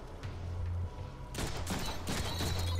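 Gunfire in the Deadpool video game, quick bursts of rapid shots starting midway and repeating in clusters over a low steady game hum.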